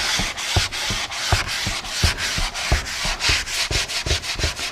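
Close, steady back-and-forth sanding of African wood finished with Armor Seal, using 320-grit sandpaper: rapid rhythmic rasping strokes with no pauses and no voices.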